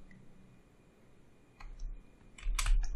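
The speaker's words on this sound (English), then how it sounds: "Oh, sorry, I can just type it." Keys on a computer keyboard clatter in a short burst of quick typing, near and crisp, after a quiet stretch with no voice.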